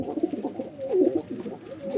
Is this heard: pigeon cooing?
yes